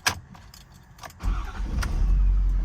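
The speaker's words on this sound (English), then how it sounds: "I'm gonna hop in the truck and take it for a quick spin" A 2019 Ford F550 service truck with a 6.7 diesel starts up: a few key jingles and clicks, then the engine cranks and catches into a deep, loud, rumbling idle that builds and holds.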